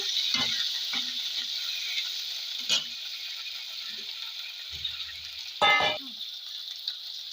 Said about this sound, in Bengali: এই পর্যায়ে আমি বেগুনগুলো ভেজে নেবো এই যে হালকা করে উল্টো পাল্টা আমি ভেজে নেবো বেগুন কটা